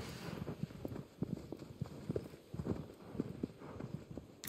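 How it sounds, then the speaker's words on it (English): Horse hooves clop in a quick, steady rhythm as the steed gallops across open ground in Shadow of the Colossus, close and clear with low background ambience. "Oh, come on, horse, go."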